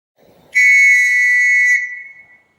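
At a school, a single loud, sustained whistle blast rings out clearly for about a second, marking the start of a two-minute silence, with only a faint rustle just before it.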